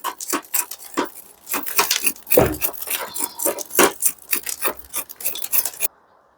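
Root rake combing through the roots of a Melaleuca bracteata bonsai during repotting, a series of close, short scratchy rasping strokes in an uneven rhythm, with no talk.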